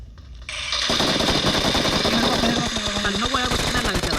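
Dense, rapid automatic gunfire from the battle royale game BGMI, loud and continuous with sharp repeated bursts over a steady in-game engine-like drone.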